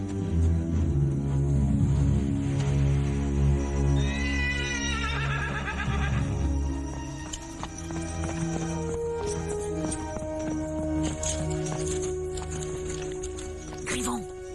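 A horse gives a single rising-and-falling whinny partway through, heard over a busy soundtrack with voices and steady background tones.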